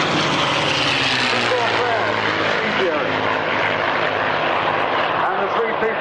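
A Bf 109 warplane banks tightly past the crowd at the Duxford Flying Legends airshow, its loud propeller engine roaring continuously with a voice talking over it.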